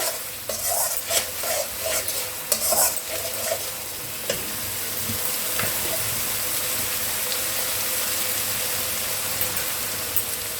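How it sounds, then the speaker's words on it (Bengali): Ginger paste frying in a pan for a Lucknowi tomato chicken, with steady close sizzling and a few scraping stirs of a spatula early on, then a continuous even hiss. "দুটোকে খুব ভালো করে ভাজবো।"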